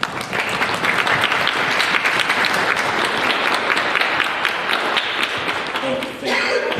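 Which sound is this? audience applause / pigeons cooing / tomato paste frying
audience applause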